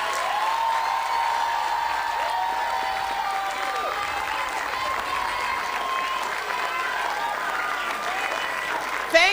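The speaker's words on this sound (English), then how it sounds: "I want us to give them a standing ovation and clap for them and thank them" An audience at a Grade 7 farewell luncheon in Lusaka gives teachers a standing ovation, with sustained dense clapping throughout, loud and steady, some voices mixed in.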